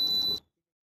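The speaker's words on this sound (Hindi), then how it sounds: "बज़र की जो इंटेंसिटी होती है वो सिग्नल स्ट्रेंथ के साथ बढ़ती जाती है।" A digital satellite finder meter's buzzer gives a single short, steady, high beep, clear and alone, then cuts off into silence.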